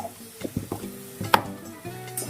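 A spoon stirs a tomato and potato mixture in a hot pan, with scraping strokes, a few sharp clinks against the metal and a light sizzle underneath, with no talking.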